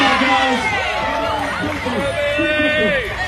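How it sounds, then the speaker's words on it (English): A crowd cheers at a pepperoni roll eating contest at Barney's Bakery, a dense, continuous mass of voices with yells and whoops close by, with people talking over it. "Let's cheer them on."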